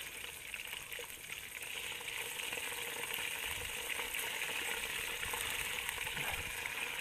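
Fisher tenders fry in a pan outdoors at dusk, a steady, moderately quiet sizzle and bubbling hiss running without break, no voices.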